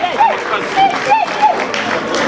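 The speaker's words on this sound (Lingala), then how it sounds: "Est-ce qu'on peut applaudir encore plus fort?" Wedding guests at a religious ceremony clap steadily for the groom Raphaël, a broad crowd applause running the whole time beneath prominent speech and whoops.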